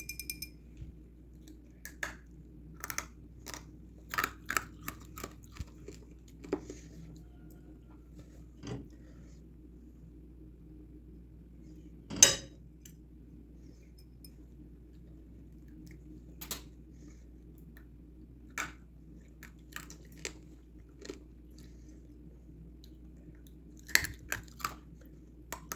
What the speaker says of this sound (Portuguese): bateu, fez o barulho de vidro, mordeu, ficou bem crocante, não grudou no dente